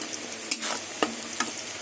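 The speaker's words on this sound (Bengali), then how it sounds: "এবার চিংড়ি মাছটা ভালো করে ভেজে নেব" Shrimp sizzles steadily in hot oil with onions and whole garlic, with a few sharp clinks of a utensil stirring in the pan.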